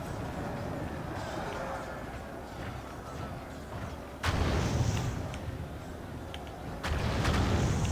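Artillery fires in a Total War: Warhammer battle as two heavy booms over a constant din of battlefield noise, with spoken commentary throughout.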